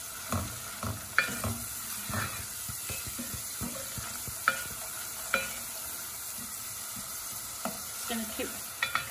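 Spices and onion frying in a pan while being stirred for a Bangladeshi hilsa fish dish; soft sizzling runs throughout, broken by sharp scraping clicks of the spoon against the pan at irregular intervals.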